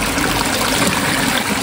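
Clear stream water pours and gurgles into a bottle in a steady, loud, close rush that fills the whole moment, with no talk.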